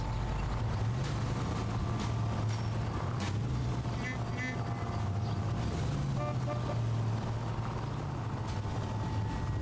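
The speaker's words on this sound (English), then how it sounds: "What if I just drive the car?" A car driven in the video game LA Noire gives a steady engine drone with rising and falling revs throughout, and someone talks over it.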